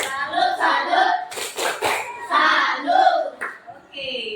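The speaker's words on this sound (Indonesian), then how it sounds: "Kita kasih tepuk salut." Claps from a group of people in a school setting, a rhythmic chant-like burst of clapping mixed with voices speaking and calling out, loud and close.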